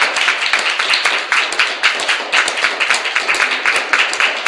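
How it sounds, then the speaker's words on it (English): An audience claps for a speaker who has just been introduced. The applause is dense and steady and fills the whole stretch at fair loudness, with no voices over it. "Thank you for the applause."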